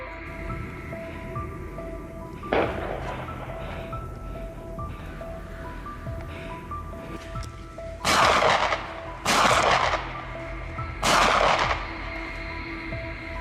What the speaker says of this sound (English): a decisive gunshot rang out